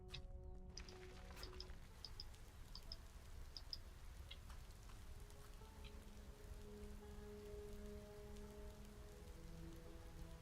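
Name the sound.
rain falling outside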